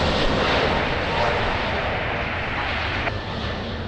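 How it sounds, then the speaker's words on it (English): An Airbus A321neo jet rolls on runway 20 at Lisbon Airport, a loud, steady broadband engine roar filling the whole stretch with little change, heard up close. "Airbus 321 Neo rolling runway 20"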